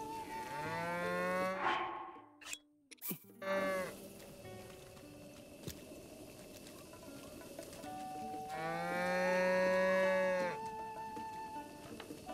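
A cow in Zelda: Breath of the Wild gives two long, clear moos, the first early and the second, louder one later, separated by a few seconds of near quiet with a brief rustle between them.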